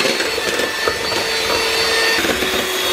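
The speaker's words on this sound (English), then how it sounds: "we're gonna beat this butter and sugar extra long, so we're gonna get as much air in as possible" Butter and sugar for a vegan sprinkle cake batter are beaten with a mixer, giving a steady, fairly loud whirring drone that runs unbroken for the whole stretch, with no voices.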